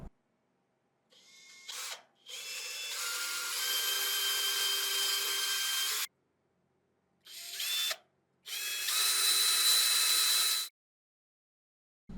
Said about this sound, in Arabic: ببنطة بقى مساوية لسمك العود هنعمل الثقوب، بس يا ريت نخليها بميل هبابة سنة صغيرة أفضل طبعا.